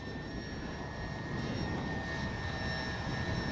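FMS PC-21 Pilatus RC plane flying in gusty wind, a steady electric motor whine overhead mixed with broadband wind rush, continuous and fairly close, no talking.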